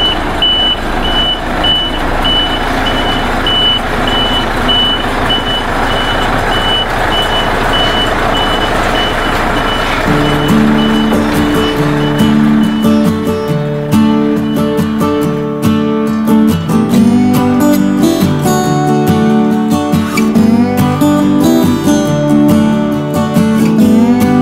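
A concrete pump truck arrives at a building site, its reversing alarm beeping steadily and loudly over a heavy diesel engine rumble, with a second rhythmic beep pattern joining partway through.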